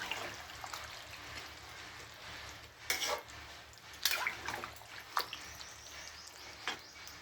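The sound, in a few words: water being added to a cooking pan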